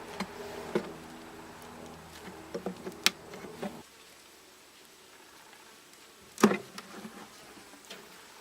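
Honey bees hum steadily around an opened hive during a fall inspection, a faint, close buzz broken by occasional louder passes and a few sharp knocks from handling the frames.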